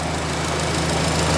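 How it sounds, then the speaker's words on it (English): A Subaru STI engine on a daily and track car build, idling soon after its first startup, a steady close rumbling drone with a low throb that holds constant throughout, no talking. "so the engine is finally running"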